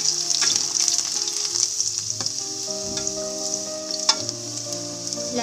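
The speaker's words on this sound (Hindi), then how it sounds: "अब हम लहसुन डाल देंगे। हमने लहसुन डाल दिया।" Garlic frying in hot oil gives a steady, bright sizzle with a few scraping stirs and clinks of a utensil against the pan, close and continuous, with no talking.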